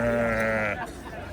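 A single loud, close sheep bleat, wavering and nasal, rings out for under a second at the Kattakurgan livestock market, then gives way to low market background noise.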